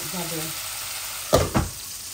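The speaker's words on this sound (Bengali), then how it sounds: "এই আমার মাছগুলা ভাজা হয়ে গেছে।" Rohu fish sizzles in hot oil with a steady frying hiss, broken by two short clattering scrapes of a utensil near the end.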